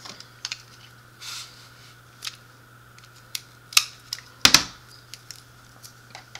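Tape pressed down by hand onto a handmade Christmas card, a series of brief soft crackles and taps, near and quiet, irregularly spaced with a couple of sharper presses, no voice.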